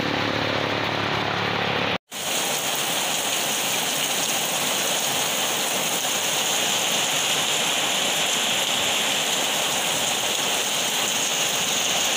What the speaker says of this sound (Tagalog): consistent talaga yung niya yung patak ng ng ulan